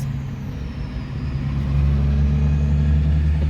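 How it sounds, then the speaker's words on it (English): Road traffic rumbles steadily nearby, a dense low droning wash of passing cars and trucks that swells slightly louder midway, with no talking. "The traffic is kind of loud,"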